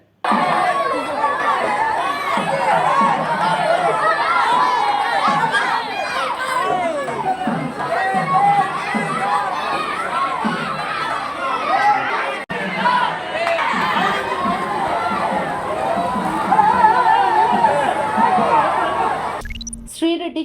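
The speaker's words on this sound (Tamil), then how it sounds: "முருகனுக்கு அரோகரா என்ற கரகோஷத்துடன் பக்தர்கள் தேரை வடம் பிடித்து இழுத்தனர்" Devotees at a Murugan temple festival chant and shout together while hauling the temple chariot by its ropes, a dense, continuous crowd roar of voices and babble holding steady throughout.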